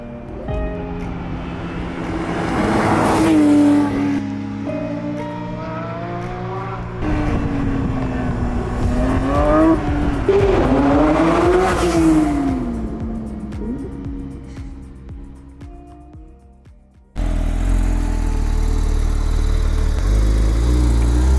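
A Porsche 911 GT3 of the 992 generation driving on the road, its engine rising and falling loudly through gear changes with sweeping revs, then easing off before a sudden shift to steady road rumble.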